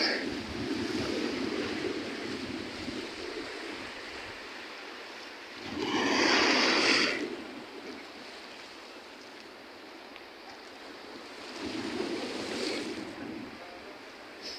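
Sea waves rolling onto a shore with a view of open water, a steady wash of surf with louder breaking swells rising and falling about every six seconds, plus some wind noise, and no talk.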